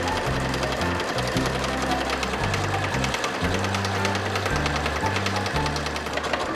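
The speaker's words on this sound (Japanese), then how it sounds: "スカートの脇を縫おう。" Sewing machine stitching the side seam of a patchwork skirt pieced from outgrown clothes, running in loud close bursts of rapid needle chatter separated by brief pauses.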